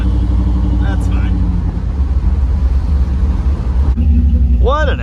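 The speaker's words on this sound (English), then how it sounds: "it just does wicked one-legger burnouts on demand" A 1984 Dodge D150 stepside pickup with a swapped Magnum 5.9 V8 doing one-wheel burnouts: a loud, deep, steady engine roar close by, with a brief rev rising near the end and no talking.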